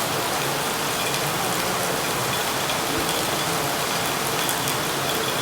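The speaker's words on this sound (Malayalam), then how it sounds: "കഷ്ടകാലത്തിന് മഴ പെയ്യും." Steady, dense rain falls and patters on surfaces, an even wash of sound with no pauses.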